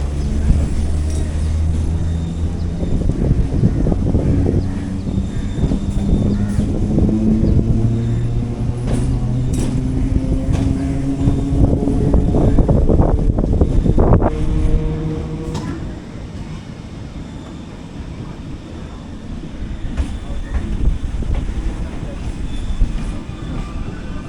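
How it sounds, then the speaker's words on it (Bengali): Sealdah to Budge Budge local train running near Lake Gardens, moving slowly over a crossing as it curves right: a steady, loud close-up rumble with rattling carriage clatter and periodic wheel clunks, plus occasional faint background voices. "আমি যে ট্রেনটায় আছি সেটা ডান দিকে বেঁকে যাবে"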